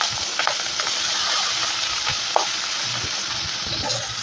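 Green chillies and chopped onion fry in oil, giving a steady close hiss of sizzling broken by a few small clicks and pops, with no voices.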